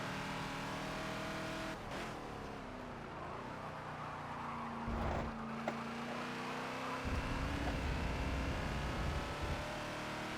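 A Ford Falcon XB racing around Watkins Glen in Forza, its engine droning steadily with rising and falling revs through gear changes, loud and continuous with no talk.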